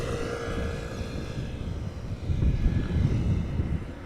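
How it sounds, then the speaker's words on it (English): A KLM Boeing 737-800, 23 years old, at Amsterdam Schiphol Airport, heard as a steady broadband engine roar that swells slightly louder toward the end, moderately distant, with no talk. "KLM flight 1417, Boeing 737-800."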